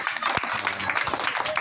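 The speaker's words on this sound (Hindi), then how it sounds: "ताली बजाओ इसके लिए भी।" Children applaud after a classmate finishes telling a story, a short burst of clapping mixed with voices and chatter in a classroom.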